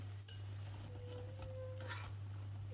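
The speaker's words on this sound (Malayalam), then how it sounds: "വീണ്ടും നന്നായിട്ട് ഇളക്കി കൊടുക്കാം നന്നായിട്ട് ഇളക്കി കൊടുക്കണം" A spoon stirs lemon and dates pickle in a pan, making faint, intermittent scraping and a light clink or two. A steady low hum runs underneath, and no one speaks.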